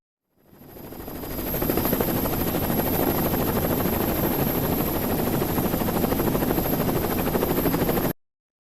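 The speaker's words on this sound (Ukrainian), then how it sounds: "Правильно, діти, це гелікоптер." A helicopter's rotor chops fast and steady, fading in quickly and then holding loud and close until it cuts off abruptly.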